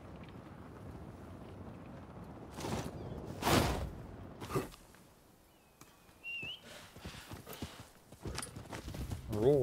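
A horse's hooves clip-clop in the Rise of the Ronin video game, scattered and fairly faint against a quiet wind-like background, with a few louder bursts and a brief whistling tone.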